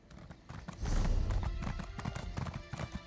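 Horse hooves clip-clop steadily in the Elder Scrolls Online video game, a close, rhythmic trot with a brief whinny-like texture and some faint voice in the mix.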